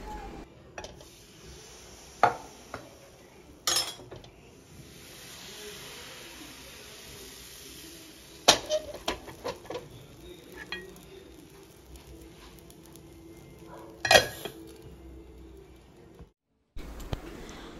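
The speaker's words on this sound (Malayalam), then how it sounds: "വെള്ളയപ്പം ചൂടുന്നതിൻ്റെ ഇടയ്ക്ക് തന്നെ ഞാൻ അടുക്കളയിൽ കുറച്ച് ഈങ്ങിയ പാത്രങ്ങളിലുള്ളത് മാറ്റി വെക്കുകയാണ്" Kitchen vessels knocked and set down between spells of quiet sizzling while vellayappam cooks, several sharp clanks and thuds scattered over about eighteen seconds, fairly faint overall with a brief silence near the end.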